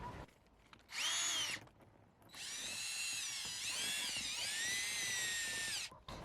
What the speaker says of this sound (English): spin that scrub brush inside the vent